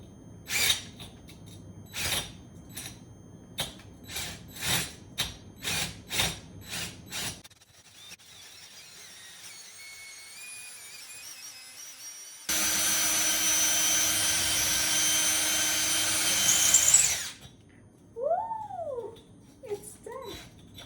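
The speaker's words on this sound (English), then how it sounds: "let's just see how far or how much I have to drill of this" Several short bursts of drilling into a teapot, then a pause and a long steady high-pitched drilling whine, followed by a few brief squeaks.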